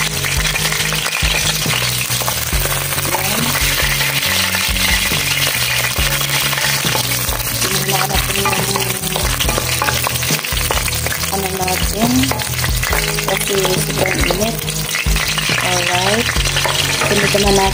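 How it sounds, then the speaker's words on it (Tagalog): Garlic dropped into very hot oil, a loud continuous frying sizzle that runs steadily throughout with a faint background tone. "Sobrang init na sa ating mantika. Sa ating oil. So, lagay na natin ang bawang natin."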